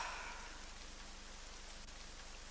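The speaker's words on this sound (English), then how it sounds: "you end up crying in the rain together with Mary Elizabeth Hellman" Steady rain hisses in the Nightmare Frames video game, an even, continuous wash of falling drops with a low hum underneath and no voices.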